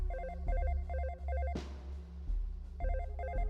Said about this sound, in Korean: 어디선가 희미하게 벨소리가 울립니다.